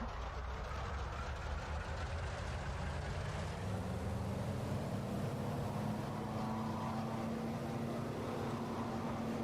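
P-47D Razorback radial piston engine in Microsoft Flight Simulator running up to 2700 RPM on the runway, a dense, steady roar that swells and holds loudly for the whole stretch.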